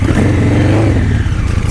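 A 2024 Honda Africa Twin DCT motorcycle engine runs steadily at low revs through a tight U-turn, a continuous close rumble with a slight rise in throttle.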